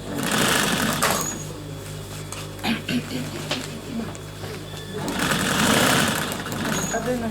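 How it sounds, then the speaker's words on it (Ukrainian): A sewing machine runs steadily in a volunteer sewing workshop making orders for the military, its fast mechanical whir loud and continuous, easing briefly in the middle before picking up again with a voice speaking over it. "А далі почав діяти швейний цех."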